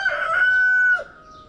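A rooster at a newly repaired chicken coop gives one loud, close crow lasting about a second, with a sustained harmonic call that ends abruptly. Faint farmyard ambience follows.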